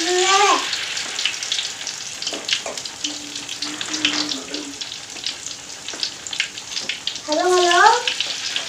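Steady sizzling of tempe gabus, tempeh coated in rice and cassava flour, frying in hot oil, with a few high chirping bird calls rising over it at the start and end.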